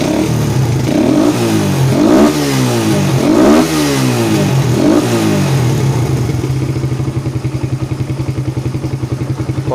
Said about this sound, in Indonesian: dan kita coba untuk raungan mesin